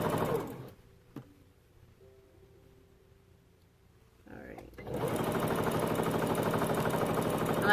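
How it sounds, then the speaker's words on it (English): A freshly cleaned sewing machine stitches a quarter-inch seam for quilt piecing, a steady, close, continuous whirring run starting near the end after a few quiet handling sounds and brief rustling. "I just finished cleaning my sewing machine. That's why it doesn't sound like a tractor again."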